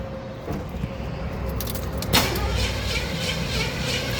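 Oldsmobile Cutlass engine with a newly fitted vacuum distributor, still running a bit rough, idling steadily with a steady hum and a brief rise around the midpoint, close by with no talking.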